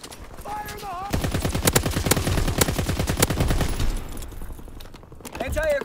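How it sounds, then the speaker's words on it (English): In a video game, anti-aircraft guns fire long, dense rapid bursts, loud and close, with a brief voice before the firing and game sounds at the end. "Anti-aircraft burst has commenced."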